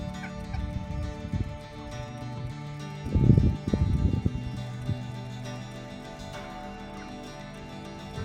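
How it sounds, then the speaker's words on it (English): Wild turkeys on a farm near a garden give low gobbling and clucking calls that swell into a louder burst midway, then fade back into a steady outdoor background with no talk. "So the turkeys keep returning, and we keep shooing them away from the garden."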